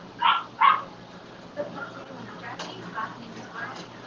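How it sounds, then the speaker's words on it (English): A dog gives two quick, fairly close barks in succession, followed by a quieter stretch of faint room sounds and low background noise. "I'm sorry my dog keeps barking."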